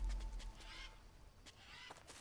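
Jungle birds in the survival video game Green Hell, a few short honking, quacking calls over a low background rumble, moderately close and brief.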